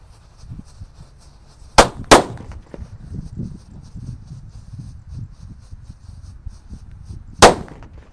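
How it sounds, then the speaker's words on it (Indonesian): Three Happy Flower disco firecrackers go off outdoors: two sharp cracks in quick succession, then a pause and a third crack, each a loud, brief bang standing out over quiet background rustle. "Selanjutnya kita nyalakan mercon Happy Flower atau mercon disco. Ini ada 3 sekaligus ya."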